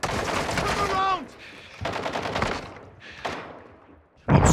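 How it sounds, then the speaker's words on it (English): Rapid bursts of video game gunfire in a military shooter firefight, loud and close, with short pauses between volleys and a final sharp blast, under radio-style voices and other game sounds. "You are taking effective fire."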